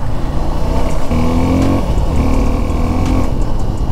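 Suzuki V-Strom SX 250 motorcycle being ridden, single engine note climbing and dropping through short pulls with gear changes, close and loud over steady wind and road noise; no talk.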